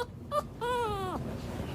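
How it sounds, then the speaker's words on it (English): A frightened dog lets out a short whimper and then a longer, high, wavering whine, faint and close against a quiet background. "when a dog makes that noise like that, it usually means they're really scared"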